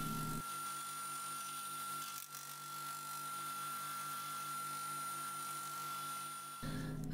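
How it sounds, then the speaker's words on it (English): A scroll saw cuts out small pieces for a miniature Christmas advent calendar, giving a steady, even buzz that runs for about six seconds before stopping, with no voices. "And now it is time to cut them out on my scroll saw."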